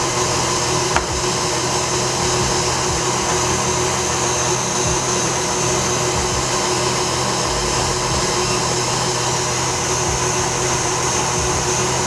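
An electric stand mixer beats eggs and sugar for a chocolate cake batter, giving a steady, loud, close whir that runs unbroken the whole time with no talking.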